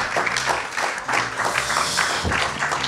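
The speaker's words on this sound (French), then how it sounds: "donnez-vous une bonne main d'applaudissement à tout le monde" A live podcast audience claps at moderate loudness, with individual hand claps audible within the steady applause.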